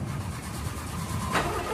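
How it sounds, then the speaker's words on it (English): A car engine cranks and turns over briefly with a low rumbling sputter before dying out, faint and muffled, with no voices. "Crap, the engine died."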